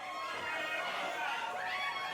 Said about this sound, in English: individual members of the crowd at certain points